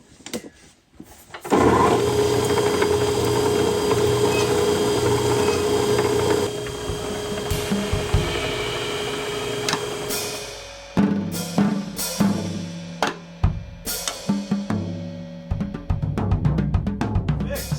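A 67-year-old Wells band saw starts up after being plugged in, a loud steady mechanical whir with a humming tone that runs for several seconds, then gives way to irregular clanks, knocks and rattles of parts being handled.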